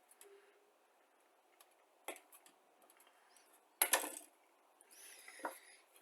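Sharp nippers cutting a plastic sprue from a 1/72 Academy Kettenkrad model kit, a few crisp isolated snips and clicks close up over near-silence, with one louder cut midway and light handling noise after.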